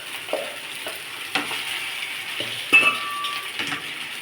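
Poha being stirred with fried onion and garlic in a pan, a low sizzle with intermittent spoon scrapes and metallic clinks against the pan, close and without speech.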